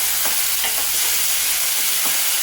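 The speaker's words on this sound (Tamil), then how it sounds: "தக்காளி லேசாக எண்ணெயில் வதக்கு" Chopped tomatoes sizzle steadily in hot oil, with a few soft stirring scrapes breaking through the constant hiss.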